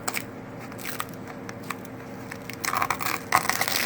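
A tacky coating is peeled by hand off an oval shield, making crackling, crunchy tearing sounds that come in short bursts and grow louder and denser toward the end.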